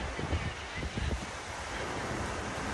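Wind buffets the microphone on a rough, stormy seaside day, a steady broadband roar with surf-like rumble and gusty low thumps, no talking.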